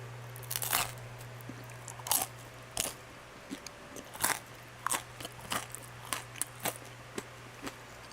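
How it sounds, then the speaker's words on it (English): Bites and chewing into a crunchy air-fried pizza crust topped with seaweed give a close, loud series of sharp crackling crunches at an irregular steady pace over a faint constant hum. "That was a crunchy crust."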